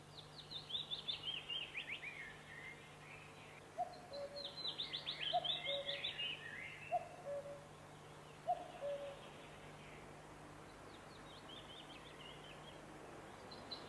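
Birds call on a game bird rearing estate that raises about 3,500 birds: bright high chirps come in bursts, with a few lower cooing notes repeating in between, and there is a steady faint hum underneath.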